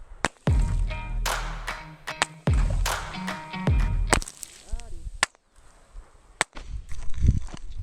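Sharp, loud cracks from a Ruger 10/22 rifle fired at soda cans 10 to 20 yards away, about half a dozen separate shots spaced unevenly with brief ringing tails, and faint voices between them.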